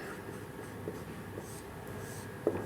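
Pen strokes scratch faintly on paper as a math proof for a class 11 sets lesson is written out, a soft continuous scribble with a small tap near the end, quiet and close.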